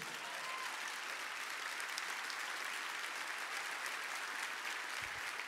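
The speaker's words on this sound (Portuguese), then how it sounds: "Vamos aplaudir o Senhor, igreja." A church congregation applauding during a worship service, a steady broad wash of clapping from many hands that holds at an even level throughout with no voices standing out.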